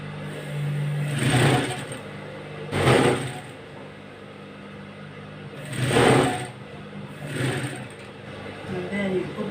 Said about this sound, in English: You turn it back again and sew the downside together with the lining.